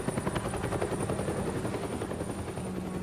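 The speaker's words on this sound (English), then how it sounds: "Again, the chopper." A helicopter in the video game Batman: The Telltale Series thrums steadily and loudly with a dense rotor chop, sustained for the full three seconds with no voices over it.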